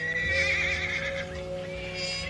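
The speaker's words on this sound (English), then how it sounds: "Seems to me I heard a horse." A horse whinnies in a long wavering neigh, heard faint and far off in an outdoor Western setting, with no talk.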